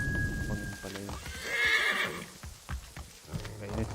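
A horse in the video game Assassin's Creed III Remastered gives a clear, mid-length whinny, with hoof clip-clops, other game sounds and a voice talking around it.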